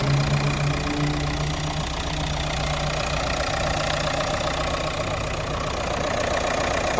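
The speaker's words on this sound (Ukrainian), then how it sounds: "Робота двигуна." A car engine with its particulate filter intact idles steadily up close, a constant low rumble with a faint knocking texture and no talking.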